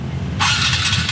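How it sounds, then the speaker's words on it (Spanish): A TVS NTorq 125 scooter engine starts abruptly partway through, its exhaust settling into a loud, close, steady idle over a low rumble. "El sonido del escape,"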